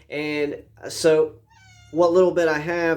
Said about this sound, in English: That's my cat going off.